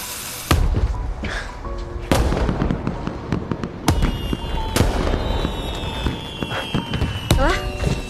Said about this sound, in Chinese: 咱把剩的烟花放了吧